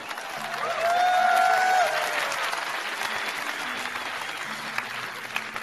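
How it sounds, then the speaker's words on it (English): A single cheer and scattered clapping from a church congregation at a Hillsong service, a brief whoop rising over broadband applause-like crowd noise that stays steady to the end, with a low murmur underneath. "I got one lonely cheer from one faithful, encouraging saint over here"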